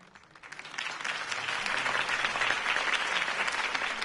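A crowd breaks into applause that swells quickly and holds steady, loud and continuous, with no voices over it.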